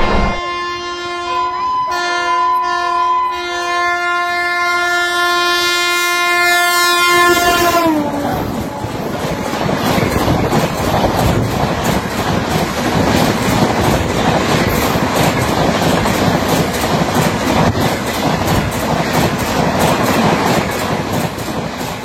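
The Radhikapur Express sounds a long, loud sustained horn, then runs on with a steady rumbling roar of wheels and carriages on the rails.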